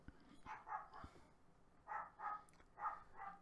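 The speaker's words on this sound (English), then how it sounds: "My dogs went indiscriminately nuts." Several dogs bark in repeated bursts, paired yaps in quick rhythm at moderate distance, with short pauses between volleys in a home setting.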